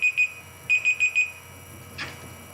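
A timer alarm goes off in two quick beeps, pauses, then sounds four more evenly spaced electronic beeps, clear and fairly close over a quiet room, followed by a soft thud.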